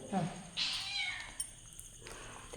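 A cat gives a clear, plaintive meow close by, followed by softer sounds, while people talk quietly in the background.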